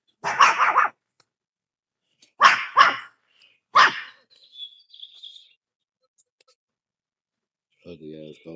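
A dog barks in three short, loud bursts spaced a second or two apart, with faint bird chirps in the quiet gaps and a brief voice near the end.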